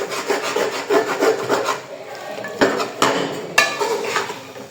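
Washed potatoes, peas and carrots mixed by hand in a vessel, giving close rubbing, rustling scrapes with a few sharp knocks against the container.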